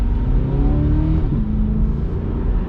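A C8 Corvette drops down to first gear on a held paddle, its engine blipping up in a loud, close rev that dips briefly at the downshift and then keeps humming on.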